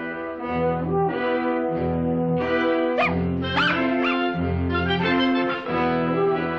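Alaskan sled dog puppies tussling over a harness, giving off repeated close yips, whimpers and playful growling barks in quick overlapping bursts, loud and with no talk.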